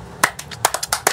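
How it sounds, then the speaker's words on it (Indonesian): Hands clapping in a quick, uneven run of about seven sharp, close claps, brief applause with no voices over it. "Tepuk tangan dong."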